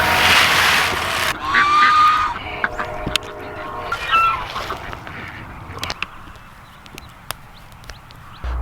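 Farm ducks call in a short burst of loud, nasal honking quacks early on, then the yard falls quieter with scattered knocks and faint shuffling.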